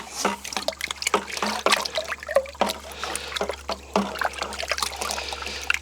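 Tumbled rocks are rinsed off with water, with splashing and trickling mixed with clicks and knocks of stones shifting, over a low steady hum.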